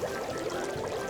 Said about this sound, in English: It's fizzy.